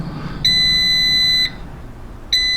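Two high-pitched electronic beeps from an air fryer: a long tone lasting about a second, then a pause and another begins, loud and close over quiet background hiss.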